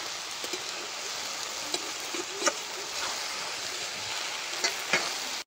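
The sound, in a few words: water lily stems stir-frying in a pan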